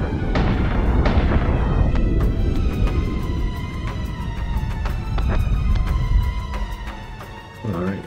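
Warship guns fire in rapid bursts amid deep booming explosions in a space battle in Battlestar Galactica Deadlock, loud and dense throughout, with sharp repeated cannon cracks layered over a rumbling low roar.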